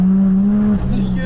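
A Nissan R33 with a 1JZGTE engine drives close by with a strong, steady engine drone that shifts pitch briefly partway through.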